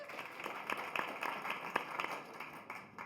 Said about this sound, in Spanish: Un aplauso para Barro, por cierto.